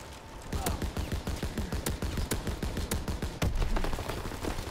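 Turret machine gun in Call of Duty: WWII firing rapid repeated bursts, dense rhythmic gunfire with sharper single loud shots, close and sustained throughout.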